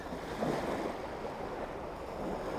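Sea waves wash around the beach at Burnham-on-Sea Low Lighthouse, a steady, loud rushing surf mixed with wind buffeting the microphone.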